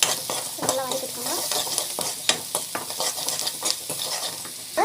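Sautéing in a pan with salt and asafoetida for a spinach curry, a loud close sizzle overlaid with rapid, repeated scraping and clinking of a utensil against the pan.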